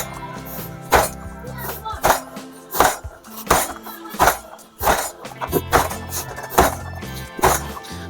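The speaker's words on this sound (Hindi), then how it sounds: "8 से 10 बार इस तरह से पटक लेना है, इससे आपका परफेक्टली मैदा बिल्कुल तैयार हो जाएगा" Bhatura dough made of maida slammed repeatedly onto a surface, about ten heavy, close thuds spaced at a steady rhythm of roughly one every three-quarters of a second.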